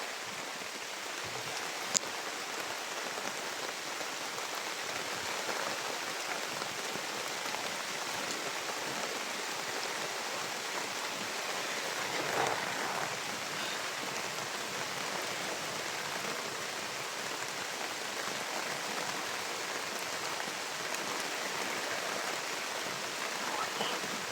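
Heavy rain pours steadily as a dense, even hiss throughout, with no breaks.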